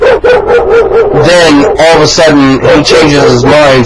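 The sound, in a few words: dogs barking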